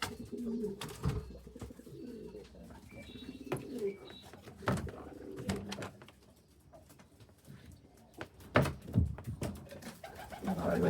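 A racing pigeon coos repeatedly on arrival home after an 889 km race from Quilpie, soft throaty calls close by, joined by wing flutters and rustling in a loft with some background noise.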